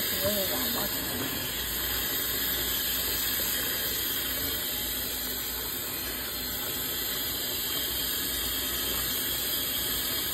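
Tap water runs steadily while a synthetic wig is washed in a sink to remove its smell, a continuous close hiss and splash at an even level throughout, with a brief voice early on.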